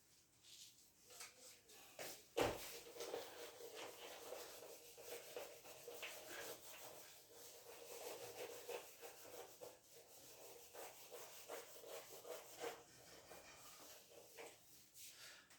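Steady rubbing and scraping of a duster erasing writing from a classroom board, continuous soft friction strokes close by with one sharper knock early on, no talking.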